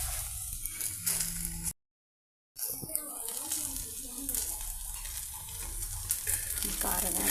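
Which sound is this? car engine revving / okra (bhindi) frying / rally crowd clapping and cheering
okra (bhindi) frying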